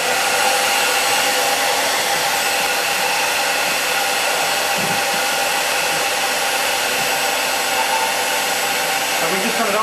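A hair dryer set to cold air blows continuously in a loud, steady broadband whoosh close by for the whole stretch, with faint background speech.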